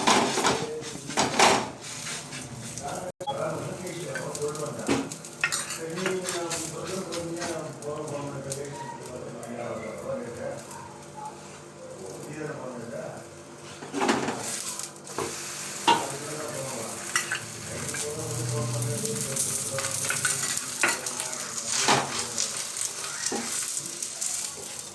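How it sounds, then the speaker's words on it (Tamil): Thin puran poli cooks on a tawa in ghee and oil, making a continuous close sizzle with spatula scraping and shuffling, while a voice speaks now and then. "இந்த தவாவில் போட்டு நெய் கொஞ்சம் எண்ணெய் கொஞ்சம் போட்டு"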